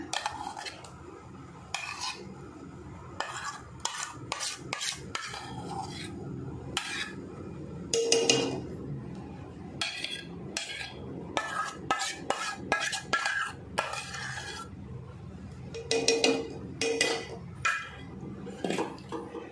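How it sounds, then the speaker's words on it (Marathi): A spoon stirs raw mango mint drink (kairi pudina panha) in a metal pot over a low gas flame, giving repeated scraping clinks and knocks in an irregular rhythm, fairly close and steady throughout. "आता हे आपल्याला ढवळायला लागेल."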